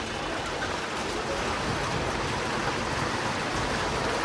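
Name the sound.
rain falling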